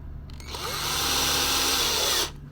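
A power drill drives in a screw with one brief, rising whir that holds for under two seconds before stopping. It sounds close and fairly loud, with quiet room noise before and after.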